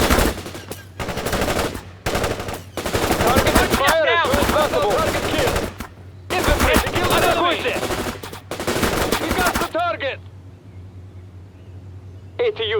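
Bursts of machine-gun and rocket fire in the Cold War strategy game World in Conflict, loud sustained volleys in several long stretches with brief pauses, a voice speaking over the shooting before it drops to quieter background noise.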